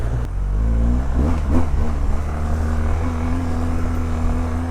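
A motorcycle engine revs during an off-road ride, with a steady close-up drone and a few quick throttle blips, its pitch rising and settling.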